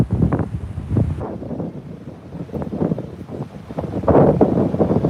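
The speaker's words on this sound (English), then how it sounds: "the wind if you hear the wind" Gusty wind buffets the microphone in loud, uneven rumbling bursts on the Seattle waterfront, rising and falling throughout with no speech.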